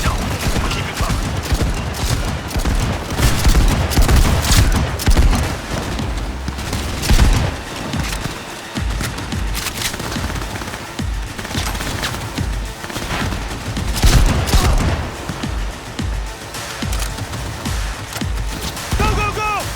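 Sustained gunfire in a Cyberpunk 2077 firefight, dense overlapping bursts and single shots crackling loudly throughout, with voices shouting over the action.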